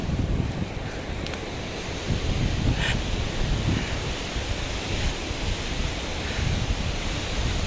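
Strong wind roars and buffets the microphone throughout, a loud continuous rumble with gusty surges and rustling, no voices.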